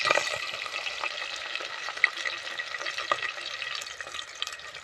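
Chopped green chillies and onion pieces sizzle and crackle in hot oil in a pan while being stirred, a close, steady frying hiss with small pops, for vegetable biryani.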